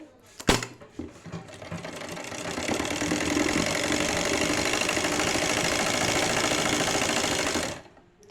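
A sewing machine stitches gum lace onto a dupatta: a sharp knock, then a steady, close whirring run of stitching that holds for several seconds before it stops.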